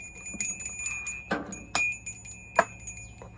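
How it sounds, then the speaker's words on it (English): A cat rings a bell hung by the door to be let inside, producing a few scattered metallic jingles and clinks, with one sharper ring near the end, close by in a quiet room. "The cat will ring the bell"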